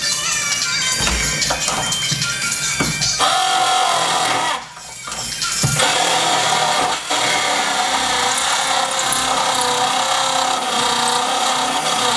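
A loud power drill whines continuously, pausing briefly midway, then grinding on at high speed against a Nissan 350Z body panel.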